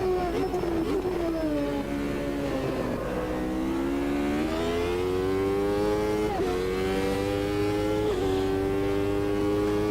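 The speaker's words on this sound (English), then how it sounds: "High revving V8." High-revving V8 race car engine in the Automobilista 2 racing game at Bathurst, loud and continuous, climbing through the revs with brief dips at gear changes around the middle and end, no talk over it.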